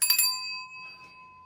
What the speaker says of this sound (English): So we about to ring the bell.